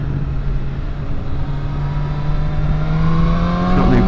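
A BMW S1000R motorcycle engine, fitted with a quick shifter, accelerates with a loud, steady roar close to the rider. Its pitch climbs gradually as the revs rise over a few seconds, with constant wind and road noise underneath.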